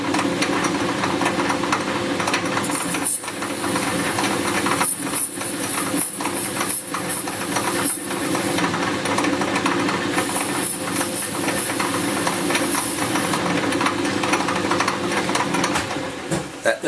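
A lathe cuts a decorative detail into a wooden part for a replica of John Harrison's wooden clock. The loud, steady whirring motor hum carries a hissing cutting noise, broken by short dips where the tool lifts away.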